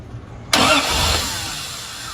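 A rebuilt Triumph TR car engine, tried without choke, cranks and catches abruptly, then settles into a loud, close idle that slowly fades.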